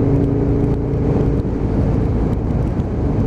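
Aprilia RSV1000 Mille sport motorcycle riding along, the engine giving a loud, steady droning roar with some wind rush, close and continuous without speech.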